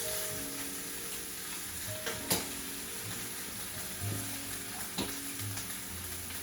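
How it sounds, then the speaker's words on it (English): Tomato paste browns and sizzles in a pan while beef short ribs are being made, a steady close frying hiss broken by a few sharp clicks and stirring scrapes. "When you brown tomato paste, it completely changes the flavor of the tomato paste."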